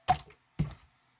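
Two wet, squelchy slaps of water slime being dropped or squished, spaced about half a second apart, close and fairly loud with quiet between them.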